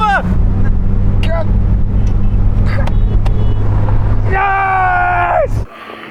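Mazda Roadster cars, from NA to ND generation, accelerate hard in a drag race, a loud sustained engine drone with rising tonal whine, climbing revs near the end before cutting off abruptly.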